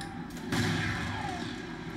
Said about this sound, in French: Et là, on va leur faire une bonne volée.